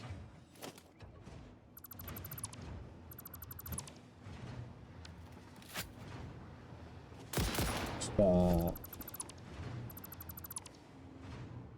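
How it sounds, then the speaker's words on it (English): Gunfire in the factory-building game Satisfactory, a burst of loud close shots around the eight-second mark with faint intermittent clatter, over continuous game sounds and background talk. "I don't know why I'm just shooting everything all of a sudden."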